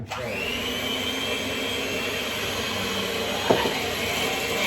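Electric mixer whipping gluten-free cupcake batter in a home kitchen: a steady, loud motor whir with a high hum, running continuously and close, with a brief knock partway through.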